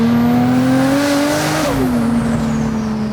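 Turbocharged Nissan Silvia fitted with a GT-R engine, driven on open roads: a loud, sustained engine drone that climbs in pitch, briefly dips as if shifting, then holds steady, with a faint high turbo whine above.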